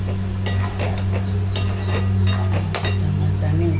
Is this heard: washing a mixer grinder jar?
yes